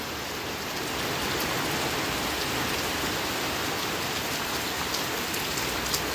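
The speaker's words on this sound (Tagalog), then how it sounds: "At last, it's raining. It's raining. It's pouring." Heavy rain pours steadily over Sindangan in Zamboanga del Norte, a dense, even wash of drops drumming on surfaces with no break and no voices.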